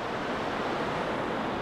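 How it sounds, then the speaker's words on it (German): Dettifoss waterfall in Iceland, a massive torrent heard as a dense, continuous roar of rushing water, loud and unbroken with no voices. "Das ist Dettifoss, der gewaltigste Wasserfall Islands."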